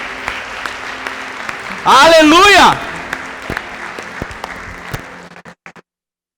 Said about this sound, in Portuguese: Aplaude o Senhor no nome de Jesus